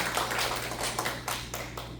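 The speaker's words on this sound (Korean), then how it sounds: "오셔서 박수로 환영하세요." A church congregation applauds to welcome a bereaved family during a Sunday memorial service, with steady, dense clapping filling the room over a low hum.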